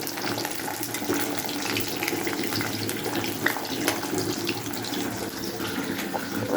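A faucet pours a continuous stream of water into a sink basin, a steady close splashing hiss that runs unbroken with no talking.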